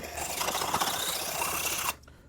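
A dull knife blade is ground back and forth on a coarse sharpening stone, a continuous close scraping rasp that stops abruptly near the end, with no voice.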